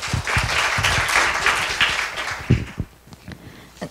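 Students at a school youth climate-justice presentation applaud as a speaker is introduced, a full burst of clapping that dies away into a few scattered claps in the final second.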